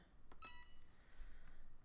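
Timer beeps from a Cricut EasyPress heat press: a few short, faint electronic bleeps in quick succession over a low room hum, with no talking.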